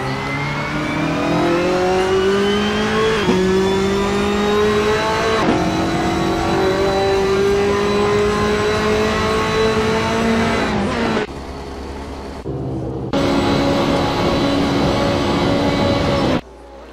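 A race car engine in a video game at the Spa circuit, holding a loud, steady high-pitched whine that steps down through quick downshifts, then drops off briefly before surging back to full volume.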